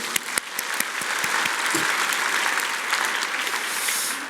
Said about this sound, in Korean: 우리 애썼는데 박수 한번 쳐주세요